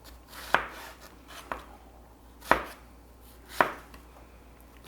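Knife blade knocks on a cutting board as vegetables are chopped for stuffing, four or five sharp, separate strikes spaced about a second apart, close and fairly quiet, with no voices.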